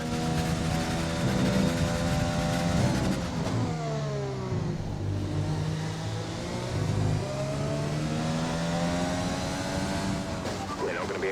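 F1 car engine in the F1 2020 racing game, a loud continuous high whine that climbs and drops through gear changes and revs, running steadily for the whole stretch with no pause.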